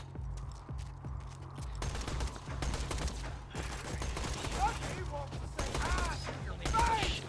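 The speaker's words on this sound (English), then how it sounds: "Somebody's shooting at me." Rapid gunfire in Borderlands 2, a steady run of shots over a low constant hum, with mechanical clatter and brighter ringing tones building toward the end; no speech.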